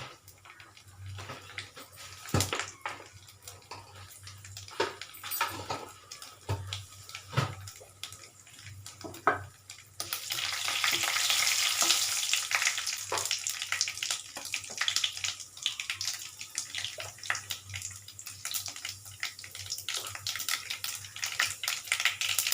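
Mustard seeds, fenugreek and cumin fry in hot oil for a radish sambar. A faint crackle and tapping at first swells into a steady, close, broadband sizzling hiss partway through, with no one speaking.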